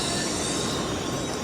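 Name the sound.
Shinkansen bullet train on the tracks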